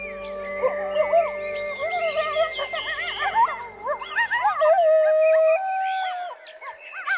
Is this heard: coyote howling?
yes